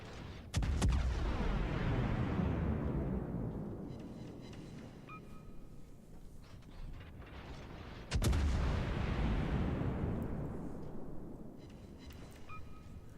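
Ship guns in World of Warships fire two heavy salvos about eight seconds apart, each a sharp booming blast that rolls into a long, fading rumble, with faint tones in the background and no talking.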